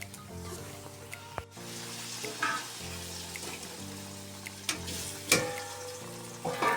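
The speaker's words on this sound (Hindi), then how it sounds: "अब मूंगफली को पका रही हूँ" Peanuts fry and sizzle in a pan for a traditional Chhattisgarh farra breakfast, a steady close crackle with occasional sharper clinks and stirring sounds, no talk.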